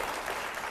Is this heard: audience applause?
yes